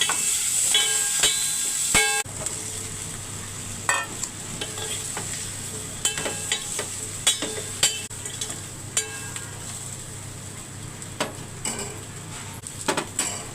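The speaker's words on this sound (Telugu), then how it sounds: "ఐదు నిమిషాలు మూత పెట్టుకొని ఆయిల్లోనే వేయించుకుందాం" Vegetables fry in oil in a covered pan, likely okra or bottle gourd, with a steady sizzle throughout, clanks of utensils and stirring scrapes scattered over it, and an early steam-like hiss fading after the first two seconds.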